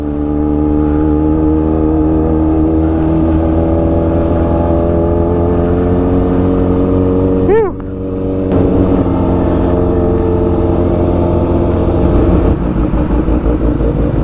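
Motorcycle and car engines rumble steadily along a busy boulevard in Calasiao, Pangasinan, where riders gather near a coffee spot, with a brief dip and a passing engine sweep midway, loud and continuous with no talk.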